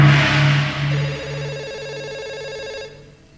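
A telephone rings in an old Telugu film scene, giving a steady pulsing electronic ring that is loud at first and then fades out after about three seconds, with no talking.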